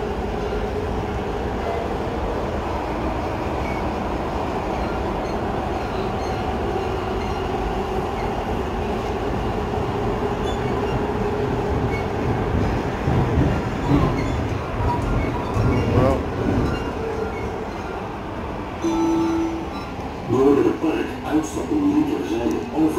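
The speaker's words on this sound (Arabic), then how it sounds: "والمترو دايز تحت منهم" An Amsterdam metro train rumbles steadily nearby, with rhythmic rail clatter and rising noise in the later seconds as it passes.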